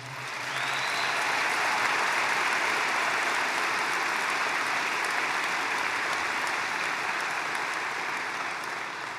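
Dense, sustained applause from a large crowd at a Trump speech, steady and loud throughout with no break, a broad wash of many hands clapping together.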